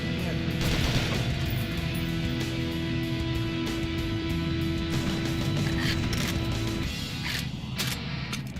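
Rapid gunfire from the shooter Perfect Dark Zero, played on Xbox Series X, crackling in dense, continuous bursts over busy game music and effects for the whole stretch.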